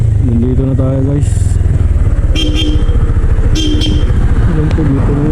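A motorcycle engine idles and putters close by in a steady rapid throb, with short horn toots and voices talking over it.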